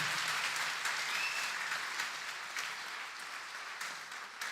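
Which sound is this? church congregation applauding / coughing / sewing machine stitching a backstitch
church congregation applauding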